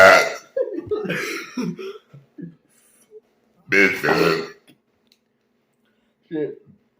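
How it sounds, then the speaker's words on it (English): Several deep, drawn-out burps break up a man's speech, with one especially long, loud belch in the middle and a shorter one near the end. "No, goddamn that burp."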